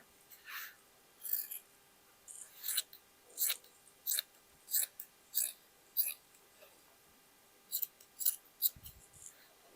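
Scissors make a series of crisp, close snips, about a dozen in an uneven rhythm, as they trim glittering fabric for a boho hooded jacket, with a brief low thump near the end.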